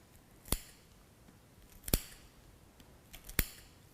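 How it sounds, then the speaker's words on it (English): Scissors snip through an animal trachea during a lung pluck dissection: three sharp, isolated cuts about a second and a half apart, close but quiet against a faint background hiss. "you're going to cut down the trachea to expose these cartilaginous"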